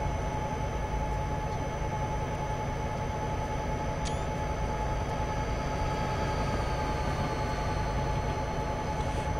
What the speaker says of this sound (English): Manifest train.